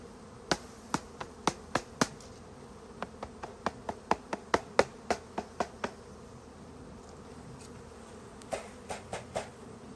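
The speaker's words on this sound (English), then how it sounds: "Look at all the bees." Package honeybees swarm at a hive, a faint, steady buzz beneath a series of sharp, evenly spaced taps and knocks that come in clusters, then pause before resuming near the end.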